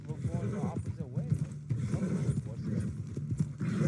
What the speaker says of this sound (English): Why is this horse going the opposite way?